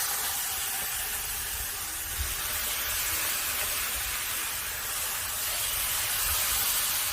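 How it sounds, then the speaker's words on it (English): Steady, dense sizzling hiss of boneless skinless chicken drumsticks frying on a hot Blackstone griddle set on low, continuous and even throughout with no talking. "it is sizzling because it's nice and heated up"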